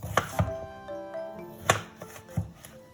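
Cucumber being cut into cubes with a knife on a board, a handful of irregular close chops between pauses, with soft tonal music running underneath.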